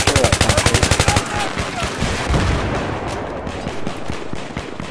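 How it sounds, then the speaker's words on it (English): Gunfire in the video game Battlefield 3, a rapid burst of evenly spaced loud shots followed by scattered heavier booms and distant firing, with faint talk underneath. "That's my favorite gun. It's slow firing, hard hitting."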